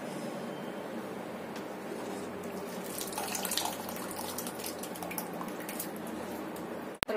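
Water drains from freshly cooked noodles without a strainer in a home kitchen, a quiet, steady trickle and splash that swells briefly midway and ends with a sharp clatter.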